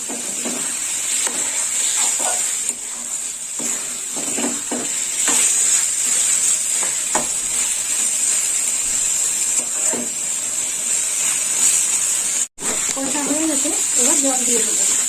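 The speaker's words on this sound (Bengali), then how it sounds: "পটলটা এইভাবে কষে নিতে হবে বন্ধুরা।" Pointed gourd pieces sautéing in a pan for a Bengali potol ghonto, a steady bright sizzle running throughout with intermittent scraping stirs, briefly interrupted once, while a person talks over the cooking.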